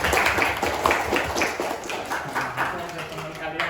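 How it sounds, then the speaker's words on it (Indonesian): A classroom of students claps their hands in a dense, steady patter of applause that lasts the whole few seconds, close and fairly loud. "Tepuk tangan dong."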